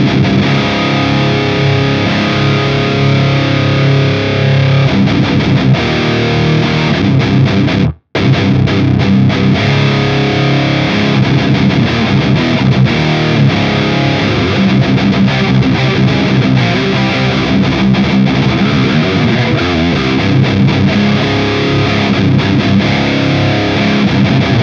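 Loud, heavily distorted electric guitar through a Fame/Yerasov Bulldozer amp with a noise gate, playing continuously for a long stretch, with a brief dead-silent cutoff near the start before the dense, fuzzy tone resumes.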